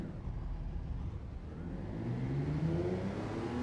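Race car engine in Gran Turismo 7 during a Sunday night time trial, a steady mid-pitched drone that climbs gradually in pitch as it revs higher, loud and continuous with no talking.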